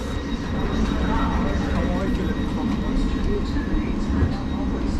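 A Thameslink Class 700 electric train, unit 700 054, pulls out of Hitchin station with a steady broadband roar that fills the whole stretch at moderate distance.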